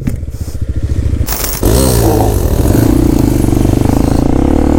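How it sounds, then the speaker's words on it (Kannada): A Hero Xpulse 210 motorcycle engine revs loudly at close range while being ridden off-road, a rough pulsing drone that climbs sharply after a brief dip and then holds steady, with no one speaking. "ಇವಾಗ ರೋಹಿತ್ ಗಾಡಿ ಓಡಿಸ್ತಾ ಇದ್ದಾರೆ"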